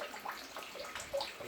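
Water runs into a newly built outdoor swimming pool finished with mosaic tile, a soft uneven splashing and trickling that stays fairly quiet, with no talking.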